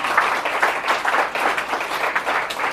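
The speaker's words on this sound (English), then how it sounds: "so I already start clapping." An open mic audience claps for a first-time performer, a lively, uneven patter of hands at close range with a few louder peaks.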